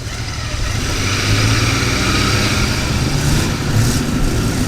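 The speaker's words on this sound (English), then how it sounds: "Yeah, that sounds like a supercharged Ford Capri to me." A supercharged Ford Capri 3-litre S engine runs close by at a classic car show, a loud, steady throaty rumble that swells slightly in intensity partway through and holds a sustained, even drone.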